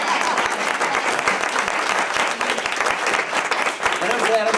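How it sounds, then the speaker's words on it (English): Audience clapping at a mayoral campaign headquarters opening, a steady dense patter of many hands filling the space, with voices and crowd murmur mixed in throughout. "there you can clap one more time"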